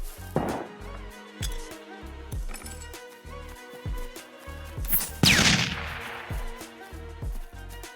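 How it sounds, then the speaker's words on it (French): A flash grenade goes off in the Scum video game, a sharp loud burst near the middle with a bright ringing hiss trailing after it, set among repeated thuds and clatter from the surrounding gameplay. "On va commencer par la grenade flash."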